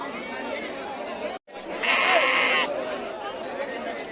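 A goat or sheep bleats clearly over the steady chatter of a crowd close by at the weekly Chitradurga sheep and goat market in Karnataka, with a brief dropout just before the call.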